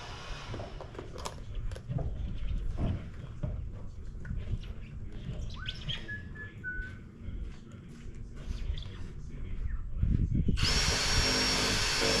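Power drill driving screws into SIP roof panels on a passive solar house build, heard as short whirring bursts amid outdoor worksite noise, with a louder steady hiss near the end.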